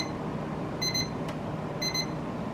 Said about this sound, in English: So you can hear the alarm